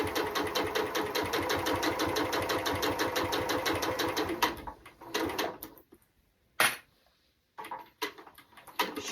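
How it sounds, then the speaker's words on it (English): A sewing machine runs steadily for about four and a half seconds, back stitching the seam of a baby burp cloth, then stops and leaves brief clicks and handling sounds. "I want to back stitch because I want that nice and tight when I go to flip my project."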